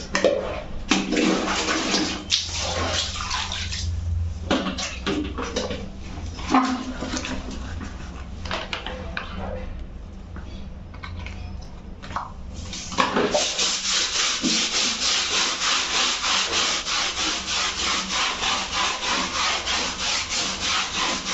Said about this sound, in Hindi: ये रनर मेरे रूम का है, तो इसको मैं हाथ से ही ऐसे साफ़ करती हूँ